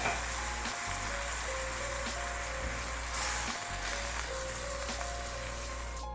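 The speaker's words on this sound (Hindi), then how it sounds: "अब इसके अंदर 2 कप के जितना मैं दूध डाल दूँगी।" Milk pours into vermicelli roasting in a pan, giving a steady close hissing sizzle that carries on evenly with faint bubbling and a soft stirring scrape.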